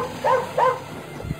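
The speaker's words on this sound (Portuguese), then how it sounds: "colocamos o som do cãozinho latindo" A short dog barking sound effect being added in a video-editing program: two quick, clear barks close together followed by a faint low trailing sound, with no talk.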